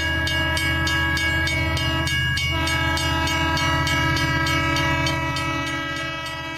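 A hype-train sound effect with a sustained train horn over rhythmic rail clatter and a ringing bell, loud and steady throughout, fading slightly at the end.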